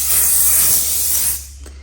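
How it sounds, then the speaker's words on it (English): A spray can hisses in one steady burst over a soft pastel artwork, loud and close, then cuts off near the end, leaving a brief quiet tail. "Spray all of your work."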